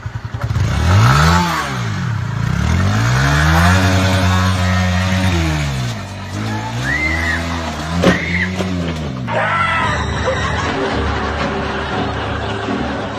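A motorcycle engine revs up and down repeatedly close by, rising and falling in pitch, with a brief clatter near the end.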